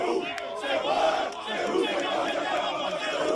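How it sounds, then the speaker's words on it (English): At an Apple Cup trophy ceremony, Washington Huskies fans in a large crowd shout a rhythmic chant in unison, loud and echoing, with a steady roar of voices throughout. "the governor of Washington got to hear a very famous UW chant"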